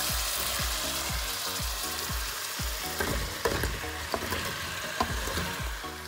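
Beef and onion frying in a pot with potatoes and carrot as a spoon stirs and scrapes in a steady repeating rhythm, continuous sizzling up close, no talking.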